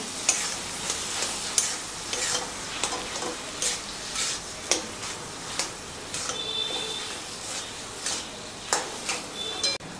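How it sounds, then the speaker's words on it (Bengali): Potatoes fry in a pan with garam masala, amchur powder and salt while being stirred, a steady close sizzle broken by repeated scraping strokes and clinks of the spatula, with no talking. "সবকিছু দিয়ে আলুটাকে খুব সুন্দরভাবে ভাজা করে নিতে হবে।"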